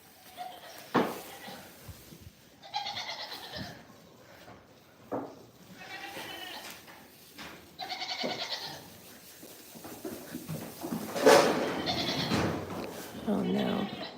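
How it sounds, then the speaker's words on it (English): Goats on a farm bleat several times, drawn-out wavering calls at moderate distance, interleaved with people talking and some scuffling noise. "If anybody tells you goats will eat anything, don't believe them."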